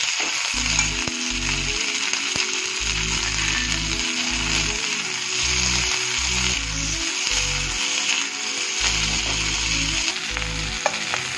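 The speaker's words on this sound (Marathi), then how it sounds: "आता वाटाणा घालून फ्राय करून घेऊया." Peas fry in oil in a pan with a constant soft sizzle and hiss, while low rhythmic thumps of stirring or scraping come in uneven bursts throughout.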